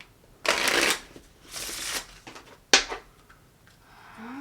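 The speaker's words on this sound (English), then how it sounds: "One last shuffle and we'll get started." A deck of cards is shuffled by hand in two crisp riffle bursts, then snapped together with a sharp flick. The sound is close and clear, in a quiet room.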